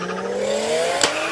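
A Subaru WRX STI racing up a hill climb course at the Speed Classic in Cape Town, its engine note rising steadily as it accelerates, loud and fairly close, with a brief sharp burst near the end.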